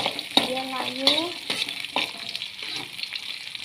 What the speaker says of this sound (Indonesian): ditumis sampai dia layu